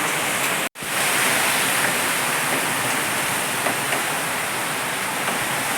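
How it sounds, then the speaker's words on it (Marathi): Heavy rain in a wind storm roars as a dense, steady wash of noise, loud and close throughout, broken only by a brief cut near the start. "इतका पाऊस आणि वारा वावधन तुम्हाला दाखवते मी"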